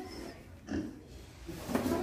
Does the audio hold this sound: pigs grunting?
yes